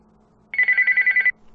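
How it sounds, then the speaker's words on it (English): A telephone bell rings in a home kitchen, one burst of rapid, regular trills lasting just under a second, loud and close, with quiet before and after. "the phone rings again"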